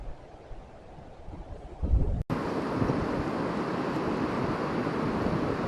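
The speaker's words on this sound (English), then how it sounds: "It is windy and it is cold." Steady wind rushes across open Nebraska public land on a cold day, a low broadband roar that swells briefly, cuts out for an instant, then carries on constant and close to the microphone.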